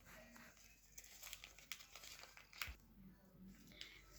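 A face mask packet being torn open and handled, with crinkly plastic rustles and a few sharp tearing bursts, close and fairly quiet, no talking.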